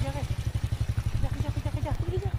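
A motorcycle ridden along a forest track, its engine throbbing in a fast, steady low pulse, close and loud, while a voice talks over it.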